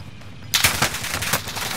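Rapid bursts of automatic gunfire in a battle royale video game crack out after a half-second lull, a dense string of loud, close shots running to the end.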